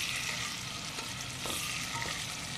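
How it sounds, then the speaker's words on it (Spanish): Onion dropped into potatoes frying in olive oil and stirred, a steady close-up sizzle filling the pan throughout with faint scraping of the mix. "cogemos la cebolla, con cuidadito, despacito, la echamos y seguimos mezclando"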